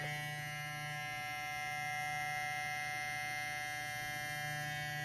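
A quiet electric hair clipper, The Phantom with a combination fusion blade, runs with a steady, even hum and fine buzz, unbroken throughout and heard alone.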